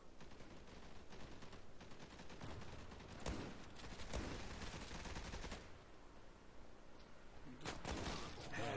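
FAMAS rifle gunfire in the online shooter Zula, rapid bursts of shots crackling in clusters over a quiet game background, with several sharp louder shots spaced through the stretch.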